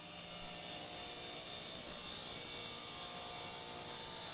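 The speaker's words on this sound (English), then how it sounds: "So I've set my saw blade to 30 degrees and I'm just going to remove a little bit of the bottom section of this moulding." A saw set to a 30-degree bevel cuts along the bottom of wooden moulding, giving a steady, unbroken grinding hiss that holds at an even level throughout, close with no talking.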